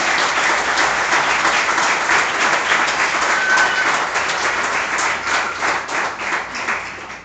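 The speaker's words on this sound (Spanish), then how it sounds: "denle un aplauso a la bendita gloria de Jehová" A church congregation applauds, dense continuous clapping from many hands filling the room, loud and steady before tapering slightly toward the end.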